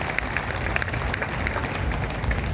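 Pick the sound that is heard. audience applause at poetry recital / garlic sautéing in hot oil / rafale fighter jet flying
audience applause at poetry recital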